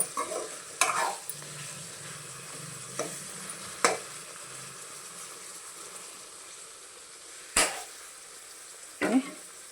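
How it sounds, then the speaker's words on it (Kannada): Brinjal fries in oil with a soft, steady sizzle and hiss, broken by several sharp clinks of a utensil against the pan. "ಇದನ್ನು ತೆಗೆದ್ಮೇಲೆ ನೋಡಿ ಆ ಎಣ್ಣೆ ಒಳಗಡೆ ನೀಟಾಗಿ ಬೇಯ್ತಾ ಇದೆ."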